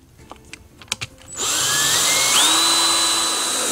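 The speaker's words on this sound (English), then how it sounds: "I'm gonna do is drill a hole in the side of the cup holder" A few light clicks and taps, then a power drill starts up and whirs steadily at high speed, drilling a hole in the side of a cup holder, its pitch shifting slightly as it cuts.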